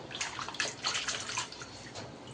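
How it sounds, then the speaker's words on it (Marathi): Colocasia leaves are rinsed in clean water for alu vadi, giving quiet uneven splashing and trickling with a few louder sloshes, close by and without talk. "असं स्वच्छ पाण्याने धुवून घ्यायची"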